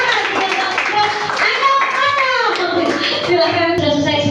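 Classroom clapping after a student presentation, a light scattered patter of hands continuing throughout, with children's voices chattering over it.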